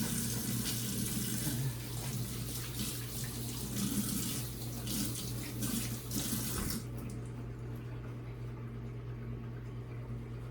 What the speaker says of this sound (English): Okay, I'm gonna wash my hands.